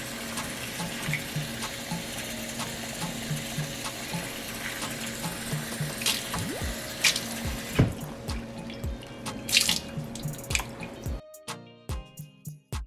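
Beans being washed in a pan of water, with close sloshing, trickling and dripping that turns into sharper splashes and clinks toward the end, and no talking.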